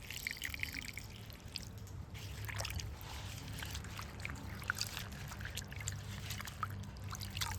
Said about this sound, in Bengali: 3 থেকে 4 বার জল চেঞ্জ করে ভালো করে কিন্তু পাতাগুলোকে ধুয়ে নিতে হবে।